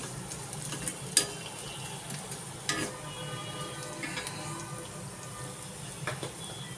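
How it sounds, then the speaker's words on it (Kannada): Green chillies temper gently in oil over a low flame. A quiet, steady sizzle runs throughout, broken by a few faint clicks from the utensil. "ಒಗ್ಗರಣೆ ಕತ್ತದ ಹಾಗೆ ಒಂಚೂರು ಸಣ್ಣ ಉರಿಯಲ್ಲಿ ಇದನ್ನು ಮಾಡ್ಕೊಳ್ತಾ ಇದ್ದೀವಿ."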